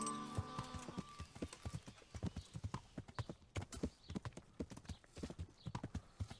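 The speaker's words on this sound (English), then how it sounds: "Oh, there's my horse." Horse hooves clip-clop steadily at a walking pace in the medieval game Kingdom Come: Deliverance, a close, rhythmic run of sharp thuds over soft ambient background, with a faint whinny and no talking.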